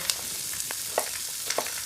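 Diced celery, onion, carrot and leek fry in a pan, giving a steady close sizzle with a few soft clicks of vegetables shifting.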